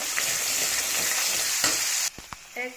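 Ginger, garlic, tomato and onion paste fries in hot oil with a steady, dense sizzle that cuts off abruptly near the end, followed by a few brief stirring knocks and clinks.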